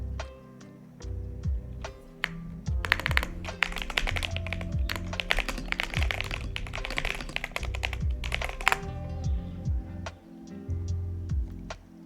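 Someone types on a computer keyboard in a steady stream of close, crisp key clicks, with denser bursts in the middle, faster flurries and short pauses, heard alone without talk.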